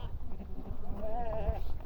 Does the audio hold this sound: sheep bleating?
yes